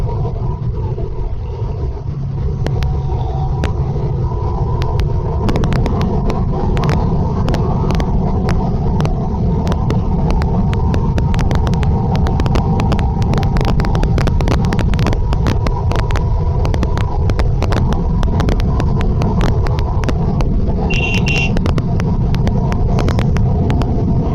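A Bajaj Pulsar NS200 BS3 motorcycle cruises in a high gear with a continuous loud engine drone, heavily mixed with rushing wind buffeting and road rumble throughout.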